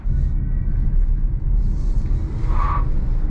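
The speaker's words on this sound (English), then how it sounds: "Plenty of wheel spin." Hyundai Kona Electric accelerating hard in sport mode with wheel spin, heard from inside as a steady low road rumble and motor hum with a brief tire squeal late on.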